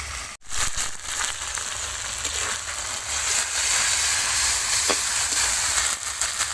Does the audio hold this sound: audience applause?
no